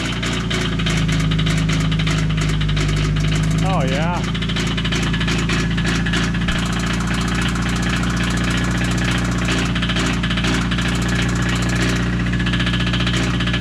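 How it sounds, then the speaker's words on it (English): A diesel engine idles with a deep, rumbling clatter that runs steady throughout, while a person briefly speaks and a whistle-like tone wavers early on. "Sounds like a diesel."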